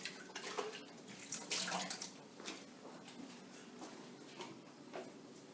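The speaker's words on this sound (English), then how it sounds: "Give it a little quick rinse." Tap water runs over a container as it gets a quick rinse in a kitchen sink, a soft steady splash with a few louder sloshes and clunks of the container, fairly quiet and with no talking.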